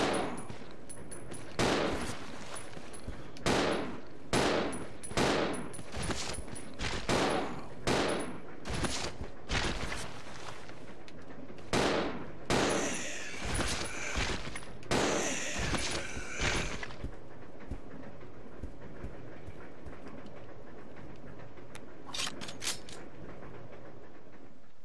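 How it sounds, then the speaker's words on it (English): Gunfire in the video game Resident Evil 0: a rapid series of loud, sharp shots in an irregular rhythm, some in quick bursts, fading to quiet background ambience near the end. "Your gun makes a lot more noise."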